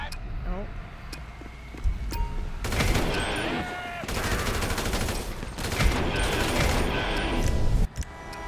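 Bursts of rapid gunfire and shouting in a chaotic street scene from the Grand Theft Auto V video game, loud sustained volleys breaking out under excited voices and engine noise.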